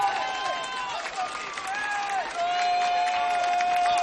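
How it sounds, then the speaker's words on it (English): A homecoming crowd cheers steadily at a high school football game, with Leo playing Bellmont, in a loud, continuous roar. A play-by-play commentator's voice runs over the top throughout. "Crowd really into it here at Leo. Homecoming crowd."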